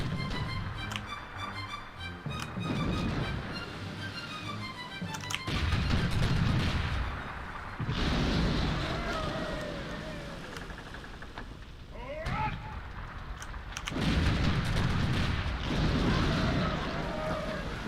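Ship cannon fire from an enemy vessel in Sid Meier's Pirates! (2004) sea battle, heavy booms recurring every few seconds amid game music and sea ambience, with someone talking over parts.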